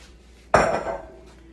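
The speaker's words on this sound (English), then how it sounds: "Putting in all the cut up celery and carrots." Cut celery and carrots drop into a soup pot in one sudden clattering splash, a single close impact that rings briefly and fades.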